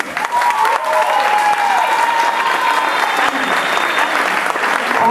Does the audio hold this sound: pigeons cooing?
no